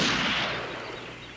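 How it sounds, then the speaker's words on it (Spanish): A single loud gunshot bursts out and then rolls away in a long, fading echo, with no voices. "Un disparo."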